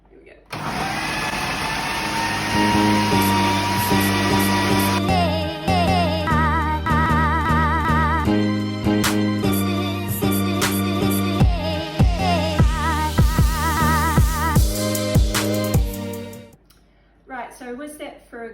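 A countertop blender whirs loudly and continuously, whipping egg whites with the wet ingredients for a gluten-free feijoa cake, its motor pitch shifting as the mix thickens before cutting off near the end.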